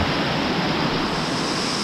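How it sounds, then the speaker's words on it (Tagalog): Anyap Falls in Tanay, Rizal pours down in a steady, broadband rush of falling water, close and constant, with no voices. "Ganda ng lagas ng tubig, oh."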